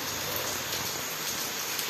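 A steady, dense roar of heavy rain, broadband hiss with no pauses, loud and close, with no voices.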